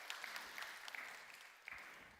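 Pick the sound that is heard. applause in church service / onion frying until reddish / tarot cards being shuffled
applause in church service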